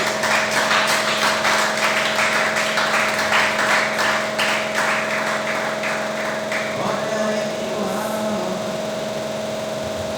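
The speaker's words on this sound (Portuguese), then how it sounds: "vamos dar uma salva de palmas para Jesus" Church congregation claps for Jesus at a service, a steady rhythmic burst of hand claps over a constant electrical hum that thins out and stops after about seven seconds, leaving quieter room sound.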